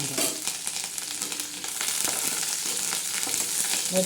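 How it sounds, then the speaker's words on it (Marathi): Tadka with garlic and leaves sizzling in hot oil for a tamarind dish, a continuous bright crackling hiss with light stirring, close and steady, no voices. "आता हा तडका बघा कसा बसतो त्याला"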